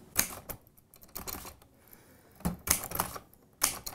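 Keys of a manual typewriter struck in quick irregular bursts, sharp clacks clustered in groups with brief pauses between, close and clear with no talking.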